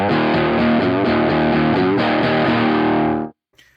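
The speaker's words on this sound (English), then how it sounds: "putting the boost on there allows you to go from that little bit of breakup, or sort of completely clean, into breakup at the press of a button" Electric guitar played through an amp with a clean boost pushing it into breakup: a loud, distorted strummed chord phrase lasting about three seconds, then stopping abruptly with a brief faint noise after.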